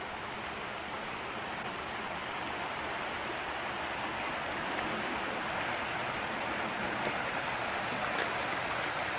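A river flows past its banks with a broad, steady rushing wash, continuous and moderately loud, with a faint chirp or two and no talking.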